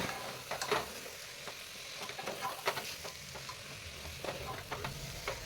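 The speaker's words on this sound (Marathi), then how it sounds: "आता या सर्व भाज्या या मसाल्यामध्ये मिक्स करून घ्यायच्या आहेत" Pav bhaji vegetables being stirred into masala in a pan, with repeated sharp spatula scrapes and clacks over a soft, continuous sizzle, fairly close and quiet overall.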